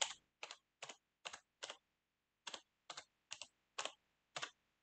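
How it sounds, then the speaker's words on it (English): Computer keyboard typed in two short bursts, five and then five crisp separate key clicks, close and clear with silence between them. "Oh, actually, oh, I can actually do that. My keyboard's right here. Hear me out."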